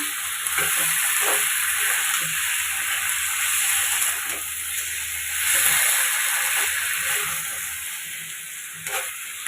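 Meat frying and braising in a pan gives a steady, loud sizzle with faint stirring scrapes throughout, and no talk over it.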